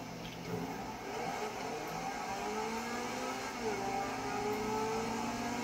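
A car engine hums and revs in the video game GTA V, a steady drone with rising and falling pitch sweeps as the car accelerates, under faint background talk.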